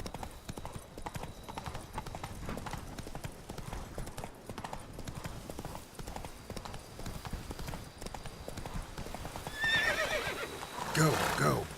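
A horse gallops and neighs in the video game The Witcher 3: Wild Hunt. Rapid rhythmic hoofbeats run steadily throughout, and a loud whinny rises near the end, with some speech mixed in.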